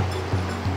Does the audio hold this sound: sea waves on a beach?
yes